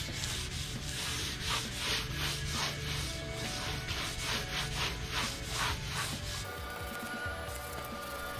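Random orbital sander working over primer on a DIY-built boat hull, a close, steady buzzing whir with rhythmic rubbing swells as the pad moves back and forth, easing off near the end.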